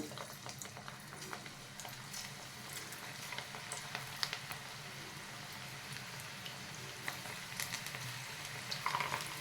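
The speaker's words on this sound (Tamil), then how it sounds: "இதை வந்து கொஞ்சம் பக்கோடா மாதிரி கிள்ளி விட்டுறேன். எண்ணெய் காஞ்சிடுச்சு" Cabbage pakoda batter sizzles in hot oil, a steady bubbling hiss broken by small crackles and pops, faint and close, with no talk.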